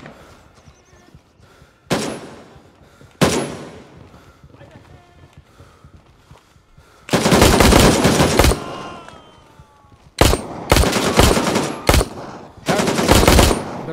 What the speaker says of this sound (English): The recoil is fucking horrific on the Glock.